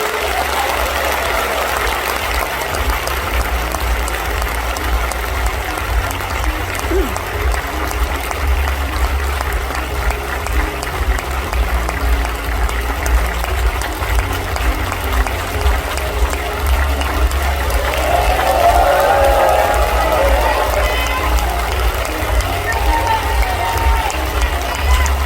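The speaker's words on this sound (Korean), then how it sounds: "큰 박수로 맞아주시기 바랍니다" Sustained audience applause and crowd noise welcomes President Yoon Suk Yeol at the launch ceremony for Gangwon Special Self-Governing Province, a dense, steady clapping wash lasting throughout.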